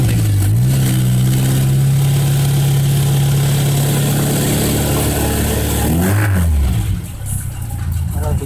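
A Suzuki Carry 1.0 engine after a TCI ignition install, idling loudly close by, then revving up with a rising and falling engine note and settling back, with a voice speaking briefly.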